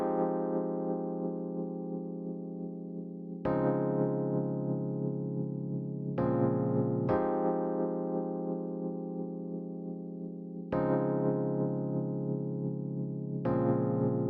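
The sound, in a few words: Rhodes Classic ninth chords layered with Nexus Dark Star 3 pad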